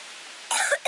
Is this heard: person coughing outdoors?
yes